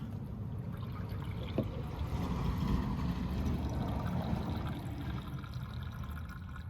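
Water poured from a 1 litre watering can into a van's underslung fresh water tank, a steady, continuous gurgling flow close by, fairly even throughout.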